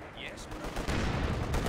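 Gunfire rattles in a Company of Heroes 2 battle for Moscow, a dense mix of distant and near shots that swells louder midway, with soldiers' voices in the background.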